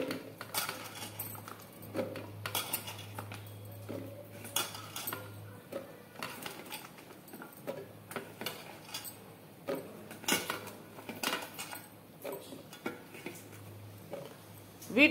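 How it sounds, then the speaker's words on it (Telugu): Bottle gourd pieces are washed in a bowl, with repeated close clinks, knocks and wet rattles of handling against the dish over a low steady hum. "ముందుగా సొరకాయ ముక్కలు శుభ్రంగా వాష్ చేసుకుందాం"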